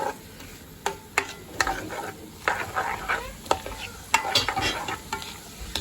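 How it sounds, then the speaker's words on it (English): Chopped onion and garlic sizzle in a pan for spicy spaghetti bolognese while a spoon stirs them, a soft frying hiss broken by repeated scraping strokes at a moderate, uneven pace. "Mix it in with the garlic, give it a good stir, and allow it to cook."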